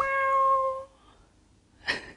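A person imitates a cat with a single drawn-out, meow-like vocal purr, loud and close, that fades out, followed after a pause by a short breathy burst.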